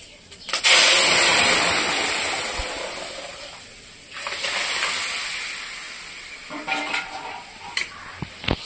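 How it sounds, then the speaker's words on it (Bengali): Lentils are tipped into hot oil tempered with dried red chillies and panch phoron, setting off a loud burst of hissing sizzle that fades, then a second surge, followed by quieter crackles and clinks. "শুকনো লঙ্কা দিয়ে দিলাম, একটু পাঁচফোড়ন দিয়ে দিলাম, এবার ডালটা দিয়ে দেবো।"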